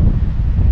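Wind blowing over the sea aboard a fishing boat, a steady low rumbling buffet against the microphone, loud and continuous for under a second with no voices.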